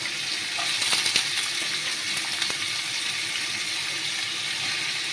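Chopped bottle gourd fries in hot mustard oil tempered with bay leaf and cumin, giving a steady close hiss with a few faint clinks and stirring scrapes, and no talk.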